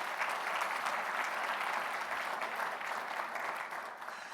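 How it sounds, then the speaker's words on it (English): A conference audience applauds a director at the Tinker and the Primes 2023 event, producing steady, sustained clapping that fills the room for about four seconds and fades slightly at the end, with no talking over it. "So please give Wayne another round of applause."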